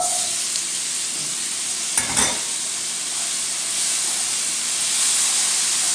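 Eggplant frying in a pan for an Indian podipotta eggplant curry, a steady close hiss and sizzle with a brief stirring clatter partway through, no voices.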